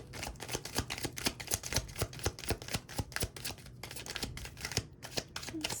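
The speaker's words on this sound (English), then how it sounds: "Oh, these are flying everywhere with a chaos shuffle" Tarot cards are chaos shuffled by hand, flying loose, making a rapid run of crisp slaps and flicks in an irregular, busy rhythm, close and fairly quiet.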